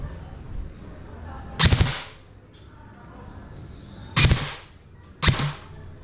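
An E&C M110 SASS electric airsoft rifle, a Knight's Armament replica, fires three short, sharp full-auto bursts up close, with quiet pauses between each burst.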